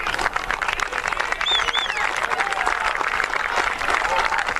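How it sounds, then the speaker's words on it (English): Applause from both college lacrosse teams and the fans at Kitt Field during a Colorado versus Grand Canyon men's game, a dense steady clapping with crowd noise and a few whistling tones over it. "So an applause from both teams and the fans as he comes off the field."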